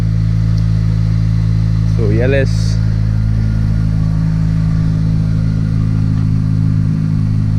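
The 2.4 diesel's cousin is not here: an Acura RSX Type-S fitted with a cold air intake hums at a steady, loud idle nearby while someone talks briefly over it.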